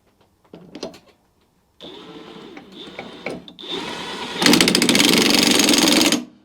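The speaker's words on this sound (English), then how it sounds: "that's on there with a 1/2 inch impact, so that ain't going nowhere." A 1/2 inch impact wrench tightens the blade on a Mountfield lawnmower, with a few clicks and handling knocks, a short whir, then a loud, close burst of rapid hammering lasting about two seconds before cutting off.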